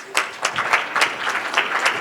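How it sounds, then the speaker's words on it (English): Audience applause for a panel at a GlobalMindED UN conference session, a steady wash of many hands clapping at moderate volume with a few sharper claps standing out. "Let's give them a round of applause"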